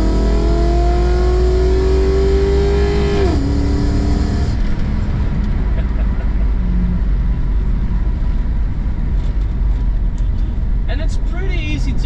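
A Volvo 244 with a swapped-in 1UZ V8 engine and automatic gearbox revs and accelerates, pitch climbing before a gear change, then a steady loud driving rumble with road noise throughout.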